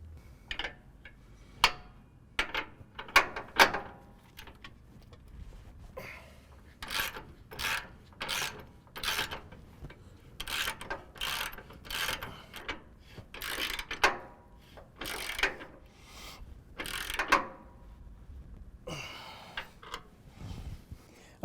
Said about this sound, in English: we're going to go ahead and tighten them down with a torque wrench to 200 foot-pounds